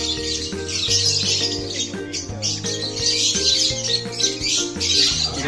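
A colony of birds in nest boxes on a farm chirps and tweets continuously, many overlapping calls close by with occasional squawks and flapping wings.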